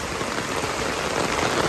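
Steady rain pours during the rainy season in rural Bangladesh, a dense continuous hiss with no breaks, close and fairly loud throughout.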